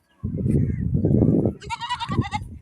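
A goat gives a loud, close bleat, a short quavering cry near the end of the clip after a burst of rough shuffling and scuffling noise.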